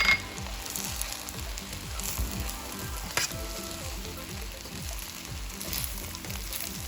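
Shrimp fried rice frying in a hot pan as soy sauce goes in, a steady broadband sizzle running throughout with one brief sharper crackle burst partway through, close and alone without any talking.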